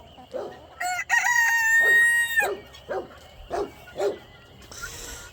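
Guinea fowl calling near a kennel, a harsh bird cry at the start followed by several short, loud, evenly spaced squawks, with a faint dog-like bark in the mix and no talk.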